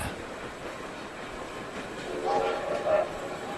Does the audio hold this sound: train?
yes